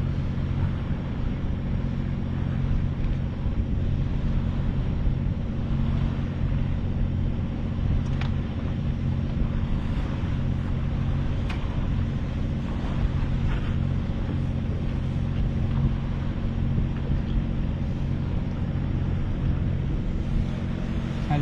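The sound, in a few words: motorboat approaching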